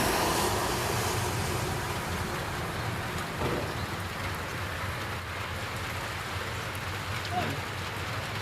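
Steady heavy rain hisses continuously, a dense broadband wash with no breaks, moderately loud and close.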